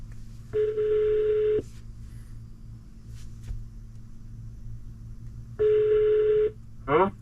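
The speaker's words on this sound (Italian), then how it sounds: "Ok, chiamo Samuele." An outgoing phone call rings back through Android Auto on an AINAVI H6 car stereo in a Nissan Qashqai J11, two clear, loud ringback tones about a second long spaced several seconds apart over a low cabin rumble, followed by a brief chirp.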